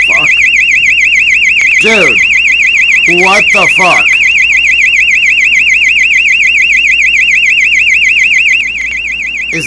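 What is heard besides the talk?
loud alarm tone heard on the Tel Aviv airport camera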